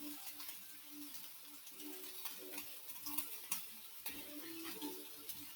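Stuffed vegetables for an Italian dish are stirred in a pan with a little water and oil, giving a faint, soft, continuous sizzle with light scraping and occasional tiny clicks, and no talking.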